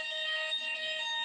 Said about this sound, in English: I think there's a fire alarm going off there.